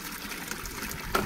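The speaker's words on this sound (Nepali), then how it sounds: "मेरो धारा भनेको हाम्रो यस्तो है" Water gushes from a village water tap in a short, steady splashing stream, close and fairly clear.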